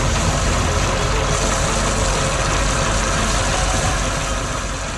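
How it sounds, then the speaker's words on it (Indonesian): A green tractor pulling a plow through a field, its engine droning steadily and loudly for the whole stretch with a heavy low rumble and no voices. "Lihat itu, traktor hijau sedang bekerja di lapangan dengan plow yang menggemburkan tanah"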